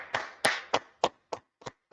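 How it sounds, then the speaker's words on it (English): About seven sharp hand claps in a loose rhythm, the later ones softer and more spread out, with no voices. "Let's clap it up for the Lord."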